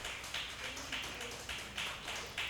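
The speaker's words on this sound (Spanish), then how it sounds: "Vamos a darle un aplauso al Señor con alegría." A church congregation claps for the Lord in a steady group rhythm, about two beats per second, with many hands blending into a continuous wash. It sounds moderately distant and fairly soft.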